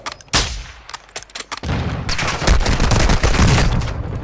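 Rapid gunfire in a video game shootout, several sharp shots early followed by a dense, loud, continuous burst of automatic fire and impacts filling the rest.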